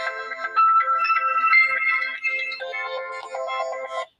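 An incoming call rings on a phone, a loud, bright melodic ringtone that plays continuously for a few seconds, then stops.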